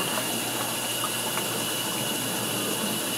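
Steady, full rush of water pouring continuously into a pan, close and loud with no talking.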